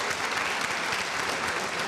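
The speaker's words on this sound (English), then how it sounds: "You can go ahead and applaud for the..." A graduation audience at Morgan Community College applauds members of the college foundation with a steady, full round of clapping, continuous and unbroken across the short stretch.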